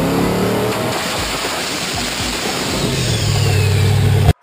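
A big block Chevy pushrod engine built for a street car racing team revs hard toward 8,600 RPM, a loud continuous roar that builds, holds and then cuts off abruptly at the end.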